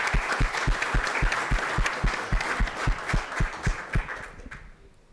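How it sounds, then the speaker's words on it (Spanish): Applause at a mining industry conference, with a rhythmic, fairly even clapping that keeps a regular beat before fading out near the end. "Un aplauso."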